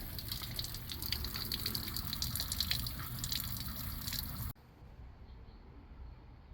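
Old coolant drains from a 2011-2019 Ford Explorer Police Interceptor Utility, a close, steady gushing pour of liquid that cuts off abruptly partway through, leaving quiet trickling.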